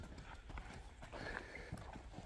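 A colt's hooves clip-clopping as it is walked in Kosh-Tobo village, Aksy district, a few faint irregular steps over light outdoor background noise.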